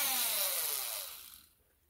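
A Dremel rotary power carving tool, run from a foot pedal for whittling a wizard hand, whines at a high pitch that slides steadily downward as it winds down over about a second and a half, close and loud with no talk.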